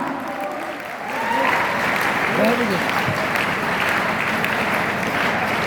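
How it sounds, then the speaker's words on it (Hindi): Loud, sustained applause from an audience at a business meeting welcoming a speaker, building after the first second and continuing steadily throughout, with speech faintly mixed in. "तो प्लीज वेलकम सर, जोरदार तालियों के साथ।"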